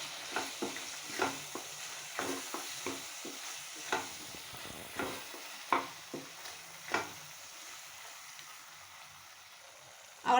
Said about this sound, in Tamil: பொடியை கொட்டி நல்லா கிளறிக்கலாமுங்க.